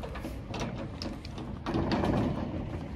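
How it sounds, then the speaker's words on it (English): A rusted lock on a storage shed, oiled and being worked to open, gives off close grinding and ratcheting metal clicks, a scrape followed by a louder rough grating stretch, with no talking. "we're having a hard time getting the lock off because we haven't been here in a while and it's a little rusted"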